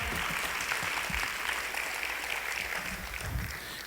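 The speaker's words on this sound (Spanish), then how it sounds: "Denle un fuerte aplauso al Señor." A church congregation applauds, a steady wash of many hands clapping that holds evenly throughout, moderately loud, with no voices standing out.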